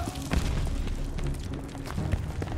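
A cannon fires in a Call of Duty Vanguard battle on the Numa Numa Trail, with heavy booms and explosive thuds over constant rumbling combat noise and no clear speech.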